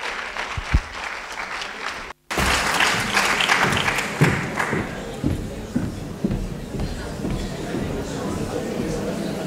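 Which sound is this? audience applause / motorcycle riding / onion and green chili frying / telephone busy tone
audience applause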